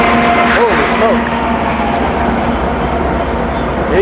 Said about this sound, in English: 8 engines probably means a pretty long train. They're cruising on through here.